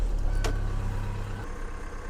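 A car left out after a heavy snowstorm starts, followed by a steady low engine idle, close and continuous with a brief click early on.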